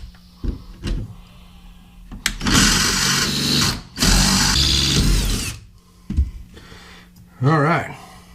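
A power drill whirs in two loud bursts while removing a fastener inside a Hewescraft boat during vinyl floor repair, with quieter handling noises and a short voice around it.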